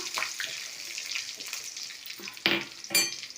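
Garlic sautés in hot oil as a spoon stirs it, a close, crackling sizzle with quick scraping strokes and two louder bursts of spattering toward the end.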